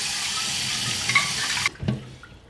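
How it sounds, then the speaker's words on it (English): Hot water runs from a tap into a flask, a steady gushing splash that stops abruptly, followed by a couple of faint clunks and drips. "I'm going to fill this up now with hot water."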